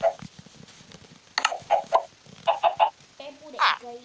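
Chickens cluck in short, close bursts, a few scattered calls followed by quick runs of clucks, with faint background voices.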